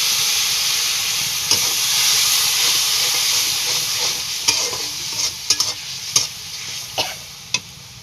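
A small splash of water poured over fried spice paste in a hot pan sets off a loud, steady steaming hiss and sizzle, with scattered sharp pops and spatters toward the end.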